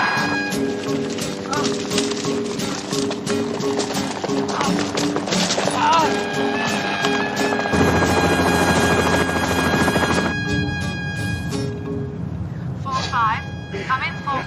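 A helicopter's rotor and engine throb steadily under tense radio chatter and other voices, with a sharp change partway through before the drone continues behind speech.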